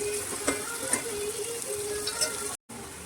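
Chopped onion frying in a pan for dal sizzles steadily and close by, with light stirring clicks and scrapes and a brief cut near the end.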